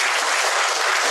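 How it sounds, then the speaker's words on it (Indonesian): A hall audience claps loudly after a Dhamma talk on meditation and karma by Bhikkhu Gunasiri, a short, dense, even burst of applause close by without voices. "Oke, baik, tepuk tangan Bapak Ibu."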